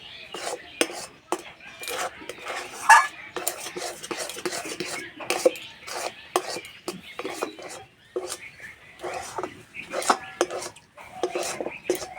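Thick semolina dough being stirred and scraped in a wok, a string of close, rhythmic scrapes and knocks of a utensil against metal with quiet gaps between strokes.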